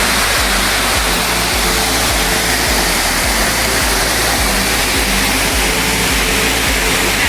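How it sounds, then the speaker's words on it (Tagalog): A waterfall on a rural property in Lopez, Quezon roars loudly and constantly, a close, dense rushing wash of falling water with no pauses. "May ganyang kagandang falls ka na."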